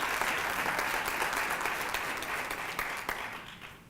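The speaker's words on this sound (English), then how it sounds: "I think we should give her a round of applause." A lecture audience gives a round of applause at a MISTRA talk; the dense clapping is sustained and even throughout, fading slightly toward the end, with no voices over it.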